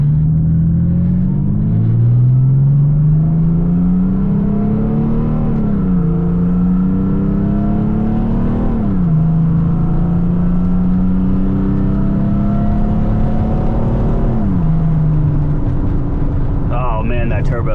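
Turbo diesel Mercedes 3-liter inline six with a 3-inch exhaust and 4-inch tip accelerates through several gears, heard from inside the cab with windows up: a loud rising drone and turbo whine, each shift dropping the pitch.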